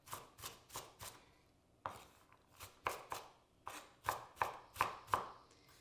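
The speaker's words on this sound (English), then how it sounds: "just chop it all up" Vegetables for a from-scratch lasagna being roughly chopped with a knife on a board, a steady run of about fifteen sharp, close thuds with brief gaps, no talking.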